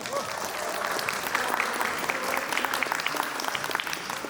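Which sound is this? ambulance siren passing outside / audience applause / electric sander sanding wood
audience applause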